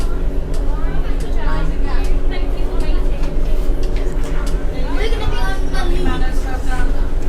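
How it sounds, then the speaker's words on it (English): Inside a moving passenger train on the new Dartmoor line, a constant low rumble and rattle fills the carriage, steady and fairly loud, with people talking over it. "a train is a bit of a noisy place to be doing a Facebook Live"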